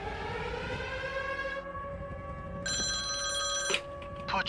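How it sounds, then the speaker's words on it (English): A phone ringing in an anime scene, a personal phone receiving a call, with a steady electronic ring tone that holds throughout and rises louder partway through, over faint background sound. "But Chisato also gets a call on her personal phone showing Shinji being tied up"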